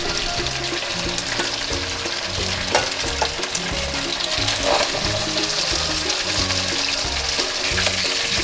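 Jumbo shrimp fry in hot oil in a cooking pot, giving a steady, close, dense sizzle broken by light stirring clatter throughout.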